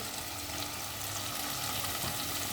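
Prawns in poppy-seed masala, with Kashmiri chili powder and a splash of water, fry and sizzle in a pan: a steady, dense crackling hiss that stays even throughout, close and unbroken, with no voices.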